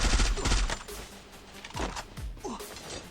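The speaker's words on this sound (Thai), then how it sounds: "ทำไมเขายิงกันวะ" Rapid bursts of gunfire from the Free Fire battle royale mobile game, several quick volleys spread over a few seconds, loud and close, with no talking.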